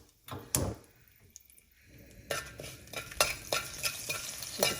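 Mustard seeds, cumin seeds and dried red chillies splutter in hot oil for a South Indian tempering, close up: sharp, irregular crackles and pops that grow busier after a quieter start.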